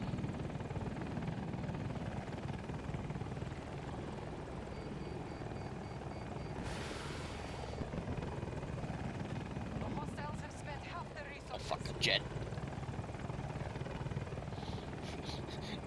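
A military helicopter in the Battlefield video game flies with a steady rotor drone throughout, joined by short sharp bursts of gunfire or explosions near the end, while a player talks over the top.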